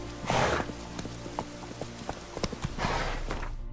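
Hooves of Geralt's horse Roach clip-clopping at a trot in The Witcher 3, a quick irregular run of sharp knocks with two louder whooshing breaths or snorts near the start and end.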